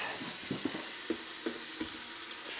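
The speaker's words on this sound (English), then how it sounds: "now that the vegetables have softened, I'm gonna add my meat" Meat sizzling as it drops into a pan of softened vegetables, a steady fry with a few soft stirring knocks, fairly quiet and close.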